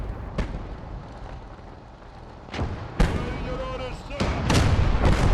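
Artillery shelling in the World War II video game Gates of Hell: Ostfront, with several heavy booming impacts and blasts landing over a constant battlefield rumble, loud and close, the last ones rolling together.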